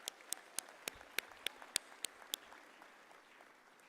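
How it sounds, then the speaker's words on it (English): At a university graduation ceremony, a run of about ten sharp, distinct claps sounds fairly faint in a quiet hall, then fades to near silence. "Shall we give a round of applause to the people that supported you"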